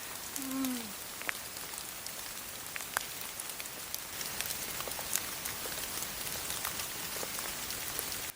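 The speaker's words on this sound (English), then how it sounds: "It keeps on raining." Rain falls steadily outdoors in Italy, a dense, soft hiss of drops spattering on surfaces with occasional sharper ticks, quiet and continuous.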